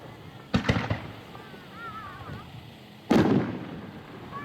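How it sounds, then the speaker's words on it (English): Consumer firework cake at an outdoor dealer demo show giving a display-style effect: a quick cluster of sharp pops, a lull with distant voices, then a loud booming burst that rumbles on. "Almost a display fireworks effect."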